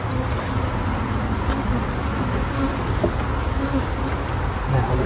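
Russian honey bees swarm and buzz loudly at an open hive during a July honey harvest, a close, dense drone of many wings with occasional individual bees zipping past, while someone talks faintly beneath it.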